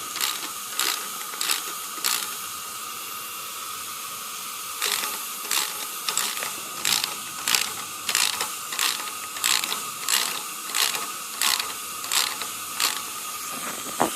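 A ratchet wrench cranks down a valve spring retainer during a cam swap on an LQ9 engine in a 1967 C10 rat rod, with close, sharp bursts of rapid clicking repeated in short strokes, with no talking.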